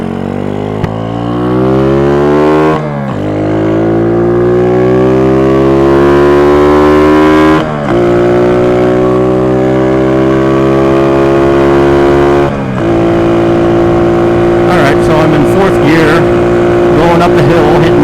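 A motorcycle engine revs up repeatedly while riding uphill in traffic at around 57 mph and 7,000 RPM, loud and close, each gear climbing in pitch before a shift, with some wind noise late on.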